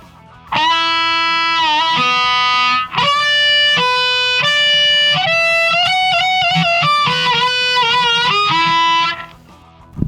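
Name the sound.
harmonica playing a solo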